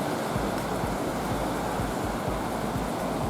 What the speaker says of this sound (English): The waves being a little bit bigger